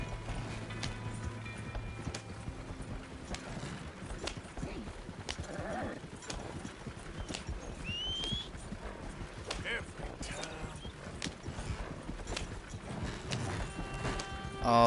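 A horse in the Red Dead Redemption wild-west game gallops and is whipped by its rider, a steady run of clip-clop hoofbeats at moderate level, with a few soft snorts and game sounds mixed in.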